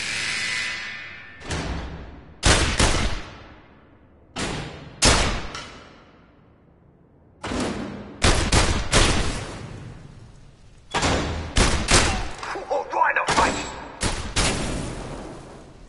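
Gunshots at pop-up targets in The London Heist on PlayStation VR: sharp, loud single and clustered cracks in irregular bursts separated by near-silent gaps, with no talking.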